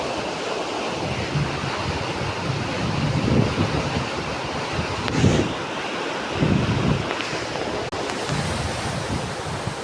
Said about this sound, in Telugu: చూడండి నీళ్ళు వదిలినారు